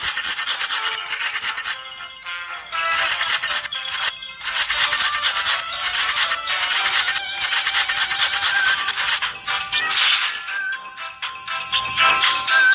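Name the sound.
grating pizza ingredients in a Masha and the Bear video game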